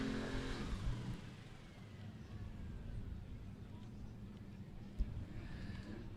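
Cars doing burnouts at a drag strip during a drag racing event, a broad continuous engine roar and tire noise heard from a distance, with a brief sharp pop near the end.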